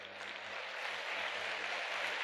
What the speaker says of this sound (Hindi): ताली बजाइए भाई अपने लिए।